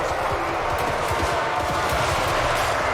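Rapid gunfire crackles steadily through a war strategy video game battle as troops snipe enemies from elevated ground, a dense continuous barrage of shots under constant loud battlefield noise.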